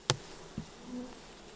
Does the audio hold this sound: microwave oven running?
no